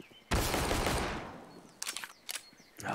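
Counter-Strike match gunfire: a loud burst of rapid automatic shots followed by a few short, sharper bursts spaced apart, with no talking.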